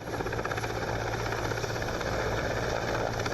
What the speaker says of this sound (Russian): вертолет зависает в воздухе на минимальной высоте